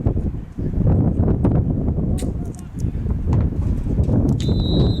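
Gusting wind buffets the microphone at an outdoor college football stadium, a steady loud broadband roar with swirling surges and no voices.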